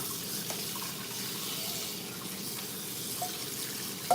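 Steady running water from a kitchen tap while cabbage is rinsed with a homemade two-ingredient veggie wash, a continuous close hiss and splash with a faint clink near the end.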